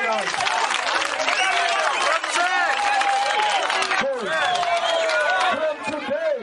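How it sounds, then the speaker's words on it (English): A crowd claps at a Freedom Day gathering, a continuous loud wash of hands under a voice that carries on speaking over the noise. "Clap a hand for me for that."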